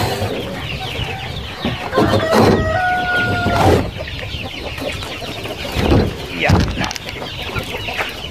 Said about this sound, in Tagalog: So ang papakainin natin yung mga sisiw, mga best friend, yan. Gutom na sila.